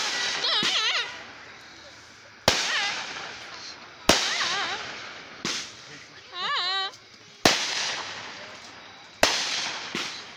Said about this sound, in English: Yeah, it's just a flare gun, man.